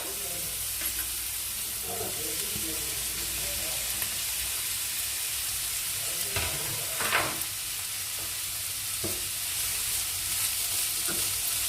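Capsicum sautéing in a pan for a homemade pizza topping, a steady close sizzle with occasional scraping stir strokes throughout, no talking.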